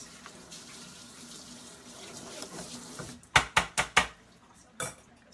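Hot water running from a kitchen faucet while a pot or utensil is rinsed, a steady hissing flow followed by several sharp clanks of cookware knocking in the sink, close by.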